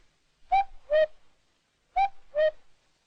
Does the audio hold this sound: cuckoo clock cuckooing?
yes